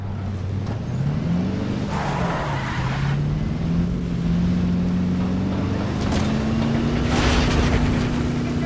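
Motorboat ride in Call of Duty Modern Warfare 3 (2023 campaign): a steady, loud engine drone with a rising and falling pitch as the throttle changes, with water rushing and splashing around the hull throughout.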